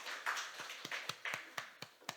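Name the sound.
church congregation clapping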